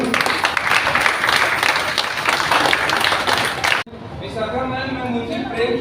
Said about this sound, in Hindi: अपने लिए कम से कम एक ताली तो बजाओ हम लोग।